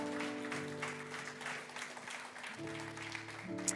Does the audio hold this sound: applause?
yes